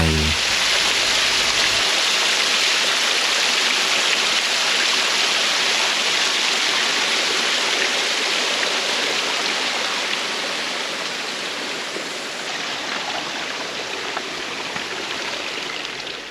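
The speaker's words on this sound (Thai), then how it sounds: "ลำธารที่เต็มไปด้วยโขดหินนี้ แสดงให้เห็นถึงร่องรอยของการกัดเซาะของน้ำมาเป็นเวลายาวนาน" Water rushes steadily over rocks in a stream at a valley campground in Nakhon Nayok, Thailand, a loud, unbroken close-up roar that eases slightly toward the end.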